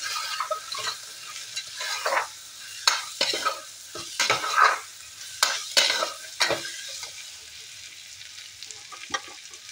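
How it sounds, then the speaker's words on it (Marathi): Pavta (lima) beans being sautéed in a pan: a spatula scrapes and stirs through a run of distinct strokes over a light sizzle, up close, with no one talking. "1 मिनिटासाठी छान असं हे परतून घेते।"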